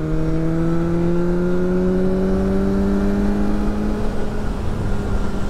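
A BMW S1000R Sport motorcycle accelerates in fifth gear: a loud, steady engine drone slowly rising in pitch over constant wind rush, heard from the rider's position with no talking.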